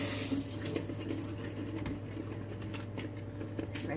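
Kitchen tap water runs steadily while onion greens are rinsed beneath it, a continuous close hiss and splash with slight variations and no talking.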